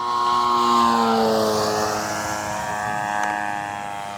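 An RC model Cessna Agwagon airplane from Legend Hobby/Seagull Models flies past with a loud propeller engine drone that falls in pitch as it passes and fades slightly into the distance.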